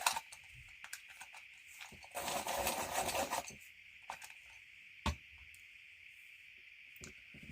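A colouring pencil is sharpened with scratchy rasping and grinding strokes, loudest in a sustained middle stretch, amid faint tapping and handling noises over a steady background hiss.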